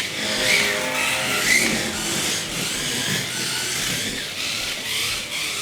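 A Pioneer Legends Racer 1/32 scale slot car whirs steadily around its track, a continuous high electric motor whine with tire hiss lasting throughout, close and fairly loud with no talking.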